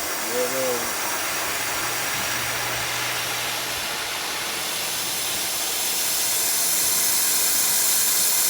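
A steady, broad hiss of air escaping from a pool filter's release valve rushes continuously and grows slightly louder toward the end, with a brief low hum at the start.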